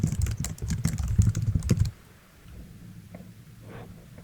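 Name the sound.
typing a command on a computer keyboard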